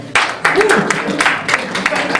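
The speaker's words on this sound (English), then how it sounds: "a round of applause for yourself for coming out." A small crowd claps in loose, uneven bursts, with a voice speaking faintly underneath.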